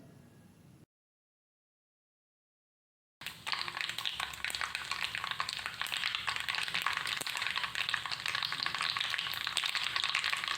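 Mustard seeds crackle in hot coconut oil for a jackfruit erissery. After a brief silent gap, a dense, close stream of rapid pops and sizzling runs steadily to the end. No one speaks.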